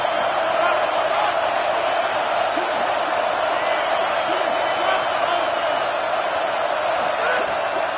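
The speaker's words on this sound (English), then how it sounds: "Listen to this crowd just shaking the girders of this place" A dense college football stadium crowd roars continuously, a loud, sustained wash of cheering voices filling the space without letting up.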